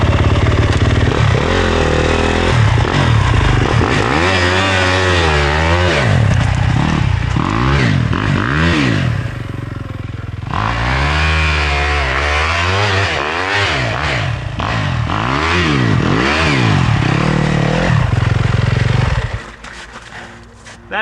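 A dirt bike on an icy surface revs repeatedly while its wheel spins without grip. Loud rising and falling engine wails come close together, then the engine drops away at the end.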